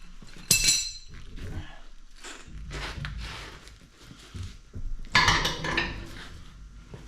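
Metal bolts and washers clink and rattle in a container during wheel and fender bracket removal on a 2015 International 4300 truck, with sharp bright jingles near the start and again later between quieter handling noises.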